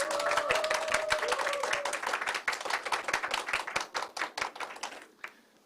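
A small indoor audience at a meeting between presidential candidate Lee Jae-myung and young social workers applauds with dense, lively clapping that thins into scattered claps and stops.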